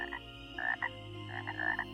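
A frog gives repeated short, raspy croaks in quick clustered bursts, close and clear against a quiet low hum, with no other sounds.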